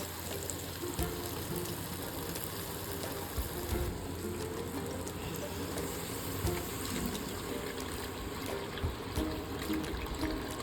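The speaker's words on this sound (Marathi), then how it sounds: "आणि व्यवस्थित हलवून त्यात गरम पाणी घालायचं आहे।" Hot water is poured into a pan of sabudana potato ragda, making a faint, steady trickling and liquid pouring that lasts throughout.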